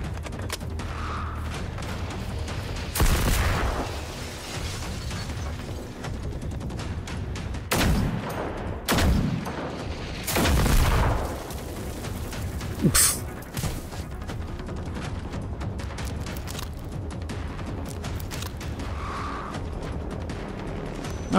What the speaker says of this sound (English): Don't think I won't mag dump a 50 cal into you.